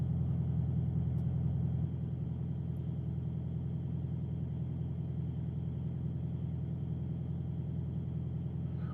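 A truck's refrigeration unit runs steadily while the rig sits parked at a customer's dock, a loud, unbroken low mechanical drone with a constant hum and no speech over it.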